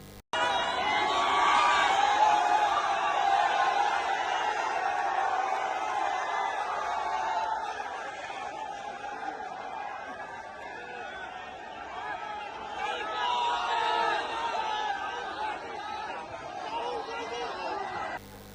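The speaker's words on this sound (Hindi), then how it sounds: "वहां पर लोगों की भीड़ उमड़ पड़ी" A large crowd gathered in Bulandshahr for Rahul Gandhi's Bharat Jodo Nyay Yatra fills the air with dense, steady chatter and murmuring, with scattered louder voices rising over the continuous babble.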